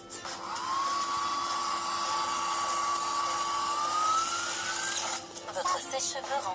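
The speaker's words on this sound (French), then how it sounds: "Votre sèche-cheveux rend son dernier souffle." A hair dryer runs with a steady, high motor whine that climbs slightly in pitch, then abruptly dies out, leaving only faint background sounds.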